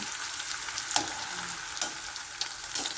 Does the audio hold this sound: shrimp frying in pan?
yes